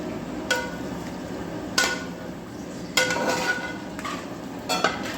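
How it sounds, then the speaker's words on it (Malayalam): Vinegar goes into an asparagus root pickle with dates in a pan, giving a steady sizzle. Several sharp clinks and scrapes of a stirring utensil against the pan sound at irregular intervals, with no talking. "അതിലേക്ക് നമ്മൾ വിനീഗർ ചേർക്കുകയാണ്"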